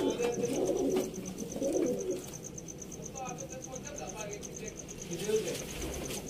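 Pigeons coo softly and repeatedly in the background at a pigeon seller's in Sialkot, while someone talks steadily over them throughout.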